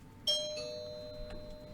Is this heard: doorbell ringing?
yes